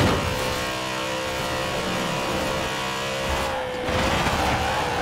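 A BMW i8 engine in Forza Horizon 4 revs continuously while drifting, a loud sustained drone with wavering pitch that dips briefly before surging again.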